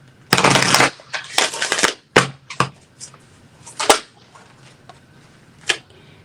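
A deck of tarot cards is shuffled close by in several bursts of riffling and sharp slaps, a long rush at the start and then shorter flicks and taps, with no talk.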